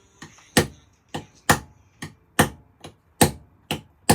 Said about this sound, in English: if you can hear that on the hammer and on the chisel, the difference in